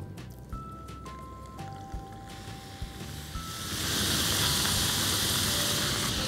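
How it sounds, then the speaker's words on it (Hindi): Potato and sweet potato pieces are shallow fried in hot oil. A low, steady sizzle runs throughout and swells into a louder, continuous crackle partway through, heard close up without talk. "अब एक एक करके इन्हें हम शैलो फ्राई करेंगे गर्मा गर्म तेल में।"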